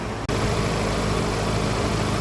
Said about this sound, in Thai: ฟังเสียงเครื่องยนต์อีกครั้งนะครับ หลังเปลี่ยนน้ำมันเครื่อง